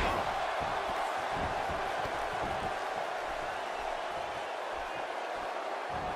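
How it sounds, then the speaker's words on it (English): Loud arena crowd from the WWE 2K18 wrestling video game during a triple threat match in Raleigh, a steady dense roar of cheering that holds at full level throughout with no pauses. "I don't remember the last time I heard a crowd as loud as this one in Raleigh"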